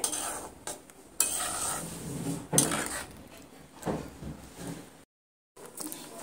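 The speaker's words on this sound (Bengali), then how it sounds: "এবার আমি এইভাবে নেড়ে চেড়ে ভালো করে আমটা সেদ্ধ করে নেব প্রায় 10 মিনিট ধরে" A spoon stirs raw mango chutney simmering in a pan with turmeric and chilli powder: intermittent scrapes, clinks and soft bubbling, close by, broken by a brief moment of silence.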